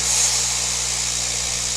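A dispensing machine runs after its dump button is pressed, giving a steady mechanical whir with a constant low hum, close and fairly loud, with no talking.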